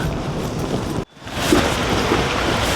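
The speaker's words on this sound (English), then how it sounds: "it's raining now" Steady rain falls outdoors as a loud, continuous hiss, briefly cut off for a moment before it resumes at full strength.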